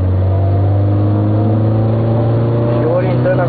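Car engine holding a steady loud drone while driving into a curve, with a slight rise in pitch near the end as voices talk over it.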